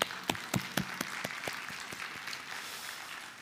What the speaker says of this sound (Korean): 우리 환영의 마음을 담아 함께 박수 한번 하면 좋겠습니다